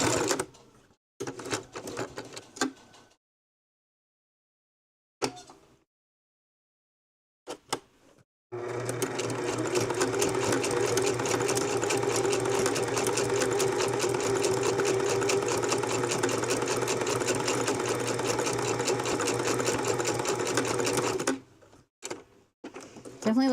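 A sewing machine stitches a fabric-wrapped rope bowl in one long continuous run of about thirteen seconds, loud and close, preceded by short bursts of stitching and pauses.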